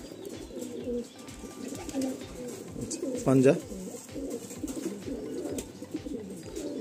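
Madrasi pigeons in a Kolkata loft coo softly in the background, with one fuller coo rising midway, while someone talks almost continuously over them.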